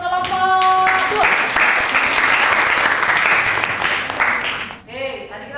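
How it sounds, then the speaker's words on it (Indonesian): A classroom audience bursts into sustained applause for a student group after their presentation, loud and steady for about five seconds, with a voice and a brief tonal sound near the start and the clapping tapering off at the end. "Oke, tepuk tangan dulu untuk kelompok 2."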